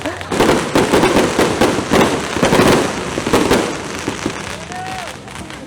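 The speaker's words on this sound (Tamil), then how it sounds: "பயங்கரமாக விளாட்றாங்க பட்டாசு." Fireworks and firecrackers at a night-time Raya celebration crackle and pop in rapid, dense bursts that go on throughout, with voices in the crowd underneath.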